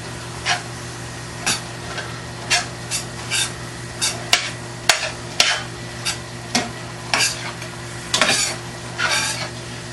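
Egg roll filling cooking in a pan, with irregular stirring scrapes and utensil clinks against the pan over a low steady sizzle.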